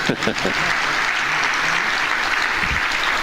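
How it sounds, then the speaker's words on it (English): Sustained applause from an audience at a music school's annual student concert evening, a steady dense wash of clapping filling the room with a few brief voices near the start. "Let's give her another round of applause."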